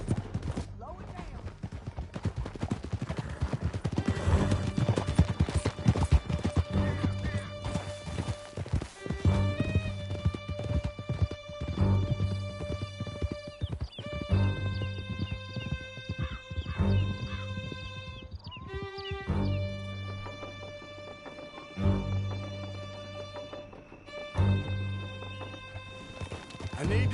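Horses gallop with fast, rhythmic clip-clopping hooves during a canyon chase in Red Dead Redemption 2, with scattered gunshots and shouted voices beneath a swelling orchestral score.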